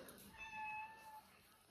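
A domestic cat meows once in a drawn-out, fairly quiet call over faint room noise.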